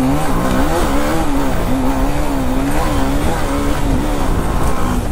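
Motorbike engine revving hard and close during a wheelie attempt, a loud, buzzing, wavering drone that rises and dips in pitch and runs unbroken throughout.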